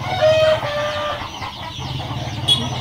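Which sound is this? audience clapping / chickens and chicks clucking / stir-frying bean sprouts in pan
chickens and chicks clucking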